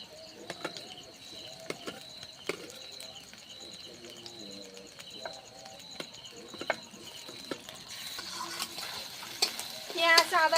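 Spice paste and garlic paste being stirred and fried in a pan for chicken curry, with soft clinks of a spatula and a sizzle that grows louder toward the end, birds chirping faintly in the background.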